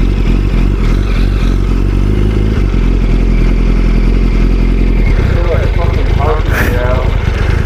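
A motorcycle engine with a Power Commander fuel tuner, running rough and loud close by, a heavy rumbling idle that turns ragged and sputtering partway through, with wind noise over it.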